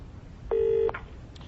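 A phone call ringing on the line, a single steady electronic ring tone of about half a second, heard clearly and close with faint background noise and no talking.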